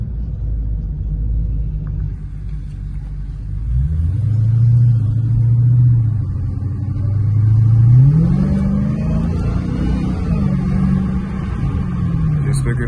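Dodge Charger SRT Hellcat accelerating hard, its deep engine note swelling into rising revs that climb and fall in pitch over a steady low rumble, loud and close from inside the car.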